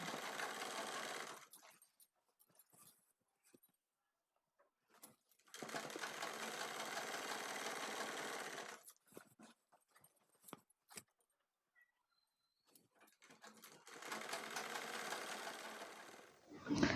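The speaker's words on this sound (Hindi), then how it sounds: "तो चलिए सीधी सिलाई लगा लेते हैं।" Sewing machine running straight stitches along the waistband belt of a six-panel petticoat, in three sustained bursts separated by quiet pauses with faint handling clicks, close and steady.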